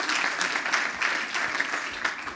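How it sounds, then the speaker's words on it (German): Audience applause at a German lecture event on monetary theory and policy, greeting an introduced economics professor; dense, even clapping that continues steadily for the whole stretch, moderately loud. "Applaus."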